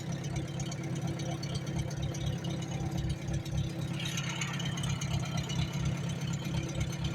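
A Farmall H tractor engine runs steadily and loudly, with a rough, even chattering idle throughout and no voices.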